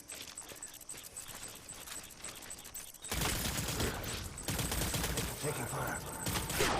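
Gunfire in the Death Stranding video game on PS4 Pro: a quieter stretch gives way to a loud, dense burst of shots and noisy combat that carries on through the rest of the clip.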